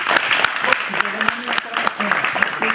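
Audience applause at a summit ceremony at a university, dense clapping throughout the short stretch, mixed with an announcer's voice speaking over it.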